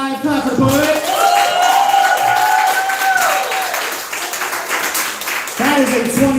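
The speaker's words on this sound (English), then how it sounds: "Clap for the poet." Applause from the audience at a poetry slam bout after a poet's scores are read, with steady clapping and a voice rising over it, then fading toward the end before voices return.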